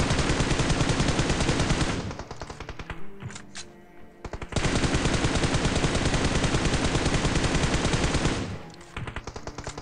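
Rapid automatic gunfire from PUBG Mobile, loud and dense in continuous bursts, breaking off briefly near the middle before resuming and stopping again near the end.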